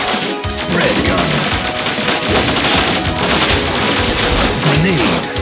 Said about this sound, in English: Spread gun.